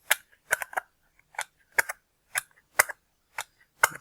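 Tin snips cutting a thin edge off sheet metal while building a stir table, giving a series of sharp, close metallic clicks and crunches in short bursts, some grouped in quick pairs and triples, with brief quiet gaps between.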